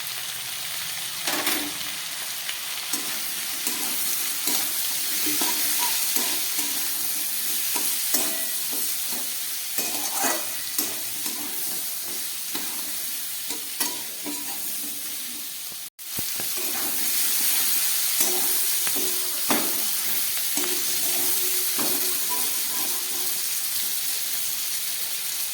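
Beans frying in a pan with salt and turmeric, a steady close sizzle running throughout, broken by repeated scraping stirs and a brief dropout partway; no one speaks.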